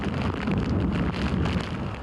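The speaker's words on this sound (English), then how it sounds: "Winds gusting up to 80 miles an hour." Hurricane Fran winds gusting up to 80 miles an hour in Goldsboro, North Carolina, a steady loud roar of wind buffeting the microphone with rain-like rushing texture, continuous and close, with no voices.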